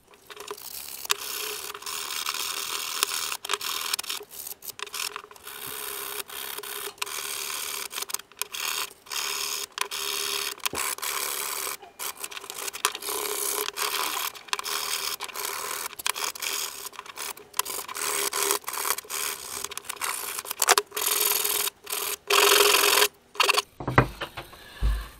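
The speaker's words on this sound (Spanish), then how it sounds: "ahora vamos a empezar a lijar y a darle todos los detalles." Steady raspy scraping of sandpaper or a power sander against a wooden door stop, continuous for a long stretch with brief breaks, close and fairly loud, no talking.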